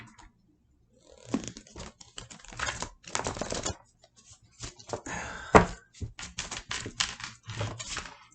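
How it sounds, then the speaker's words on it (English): Tarot cards being shuffled close up, a run of quick riffling and soft slapping bursts separated by short pauses, with no talk. "We're going to shuffle one more time."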